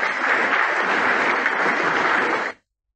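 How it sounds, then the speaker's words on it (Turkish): A crowd in a parliamentary assembly hall, the First Grand National Assembly of Turkey, claps in sustained, dense applause that holds steady and loud, then cuts off abruptly. "Durak Bey'i içtenlikle alkışlamıştı"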